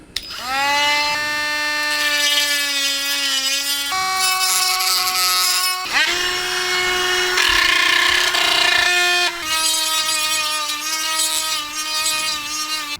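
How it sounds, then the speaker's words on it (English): A rotary tool grinding material off a Hot Wheels car body whines loudly and steadily, its pitch dropping and rising as the load changes across several passes, with no talking. "I'm going to grind away the body a bit with this rotary tool."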